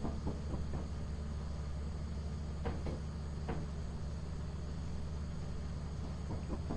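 A door in the video game Lethal Company opens and closes, giving a few sharp knocks and clunks around the middle over a steady low mechanical rumble.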